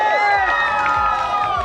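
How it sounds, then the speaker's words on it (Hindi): A live audience hoots, whistles and claps together on cue, a loud, close burst of crowd cheering packed into under two seconds. "सबको एक साथ मेरे 3 काउंट पे हुटिंग करनी है और तालियां भी बजानी है"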